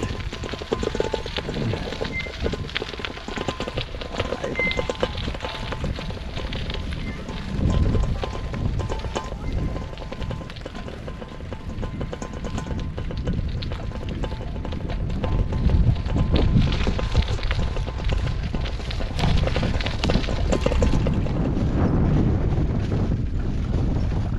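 High-tide sea water sloshing near parked fishing boats at night, a steady rushing wash with wind buffeting the microphone and faint clunks, moderately loud and continuous throughout.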